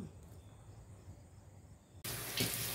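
A tap at a sink suddenly turns on and runs water steadily to rinse an item, loud and close after a quiet room with a faint insect-like hum.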